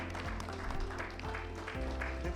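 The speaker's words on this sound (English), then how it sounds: "Let's have a huge round of applause" A conference audience at an HR event on Indian startups applauds in a steady, dense wash of clapping throughout, with a low tonal music bed running underneath.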